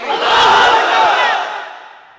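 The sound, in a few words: married men in the crowd shouting the takbir call, Allahu Akbar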